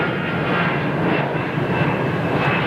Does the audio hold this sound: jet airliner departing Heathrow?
yes